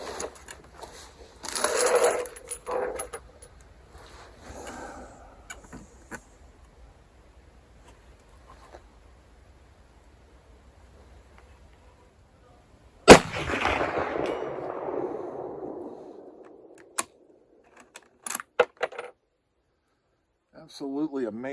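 Two loud rifle shots from a Mosin Nagant 91/59 carbine firing Czechoslovakian training ammunition at a 240-yard target, the first sharp crack ringing and decaying for several seconds, then a few small clinks, with speech faintly earlier.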